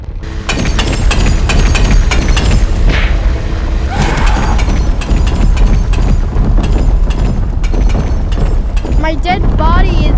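Rocket launcher blasts in the VR game Animal Company, a loud, dense barrage of booming thuds and crackles that goes on nonstop, with voices mixed in.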